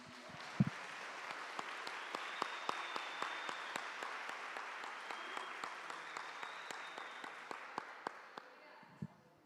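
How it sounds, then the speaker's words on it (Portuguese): A church congregation applauds for Jesus during a service, with fairly faint, distant clapping that stays steady under a background hum and ends with a couple of sharper knocks. "A igreja pode dar uma forte salva de palmas a Jesus."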